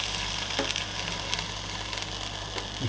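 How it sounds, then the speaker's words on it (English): Small pizza sizzling inside an air fryer, a steady close crackle and hiss with a low fan hum underneath and occasional faint pops, no voices. "You can hear the sizzle."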